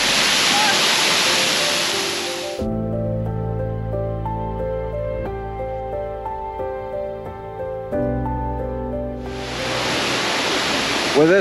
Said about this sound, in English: around every bend there's a waterfall